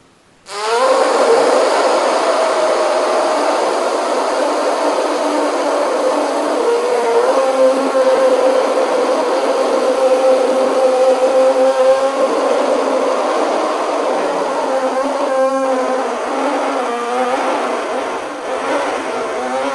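A forceful pranayama exhale pushed through puffed cheeks and tightly pressed lips makes a loud, steady, buzzing rasp that holds for almost twenty seconds with a slight wavering flutter near the end.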